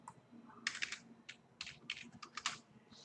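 Code being typed on a computer keyboard in Jupyter Notebook, a close, quiet run of key clicks in uneven bursts with short pauses, no speech.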